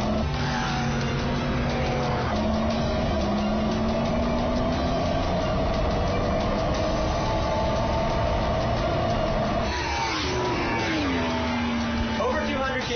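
A Yamaha Motobot robot rides a motorcycle at full throttle, its engine note rising steadily and loudly in a continuous accelerating whine with a brief dip near the end, while a voice speaks over it.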